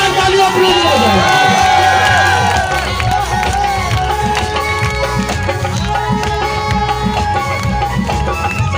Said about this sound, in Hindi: एक जगह जोरदार तालियां अपने लिए हो जाए